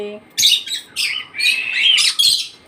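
Birds about to be fed call loudly and close by in reply to a whistle, a few shrill chirping and squawking bursts repeating in quick succession after a brief opening tone.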